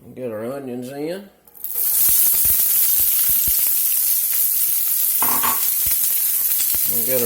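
Onions hit avocado oil in a smoking-hot pan and erupt into a loud, steady sizzle that runs on continuously. A voice speaks briefly before the food goes in, and again near the end under the frying.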